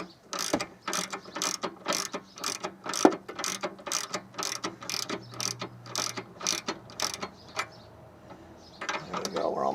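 A ratchet tightening the nut on a car's sway bar link, giving a long run of rapid, evenly spaced clicking strokes with brief pauses, close and clear.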